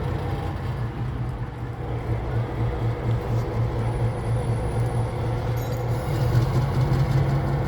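A small, low-powered diesel locomotive from a museum collection idles with a steady low throbbing rumble, close and loud, with a slight rise in intensity near the end.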